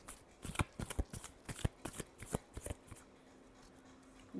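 A deck of playing cards being shuffled up close, a quick series of soft riffling snaps and flicks that ends in quiet near the finish.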